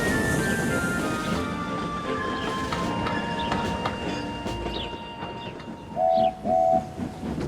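A heavy goods train hauled by engines rumbles along the rails with a steady low roar, metallic squeals and clanks throughout, and two short whistle blasts near the end.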